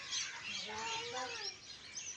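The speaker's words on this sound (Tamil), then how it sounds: "எவ்வளோ குருவி கிளி கிளி இருக்குமா இதெல்லாம் நான் காகம் இதெல்லாம் எப்படியே சத்தர கத்துற சவுண்டு பாருங்க" Birds such as sparrows, parrots and crows call from a tree at a Mariamman temple, a dense continuous chorus of chirps and squawks at moderate distance with faint background ambience.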